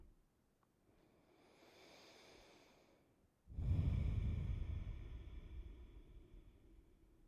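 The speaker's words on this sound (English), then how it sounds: "Breathing in and out through the nose if possible." Slow breathing through the nose during a gentle yoga session: a faint, drawn-out inhale followed by a louder, airy exhale that gradually fades, close and quiet with no talking.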